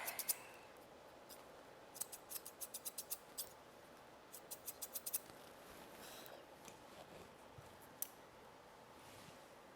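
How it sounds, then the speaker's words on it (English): Grooming scissors trim the fine eyelash hair of a Miniature Schnauzer in quick, close snips, some in rapid bursts of five or six and others alone, over a quiet background. "And I'm gonna cut them off."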